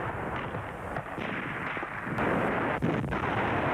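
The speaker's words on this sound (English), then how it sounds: "Amid the rapid exchange of tank fire and the occasional shots from the enemy" Heavy tank fire and scattered shots in a Stalingrad battle, a dense continuous rumble of booms and blasts with a few sharper cracks, loud and unbroken throughout.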